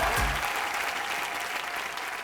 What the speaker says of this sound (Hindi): जोरदार तालियां होने हरभजन भाई के लिए।